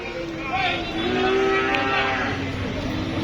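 Cattle lowing at a busy cattle market, a single loud, drawn-out moo close by over a steady crowd murmur.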